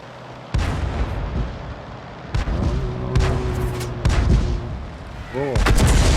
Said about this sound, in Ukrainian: О, це був чудовий постріл на 105.